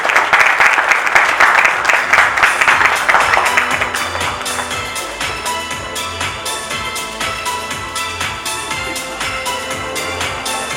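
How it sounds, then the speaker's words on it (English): Audience applause for panelists at an architecture and design summit in Kochi: a dense, loud burst of clapping that starts strong and eases into steadier, lighter claps across about eleven seconds. "Big round of applause, ladies and gentlemen"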